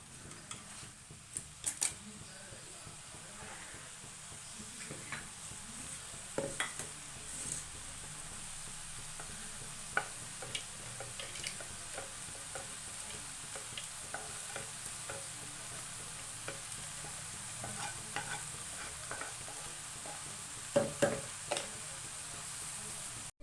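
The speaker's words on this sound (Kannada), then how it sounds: "ಬಾಡಿಸ್ಕೊಳೋಣ ಇದನ್ನು" Mushrooms sautéing in a pan for a mushroom gravy, stirred now and then: a quiet, even frying hiss broken by occasional light clicks and scrapes of a utensil, with no voices.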